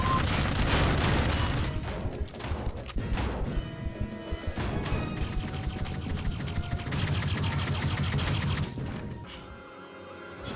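Rapid bursts of video game gunfire crackle and clatter in dense volleys, mixed with crashes and mechanical clanks, loud and busy for most of the stretch before thinning out near the end.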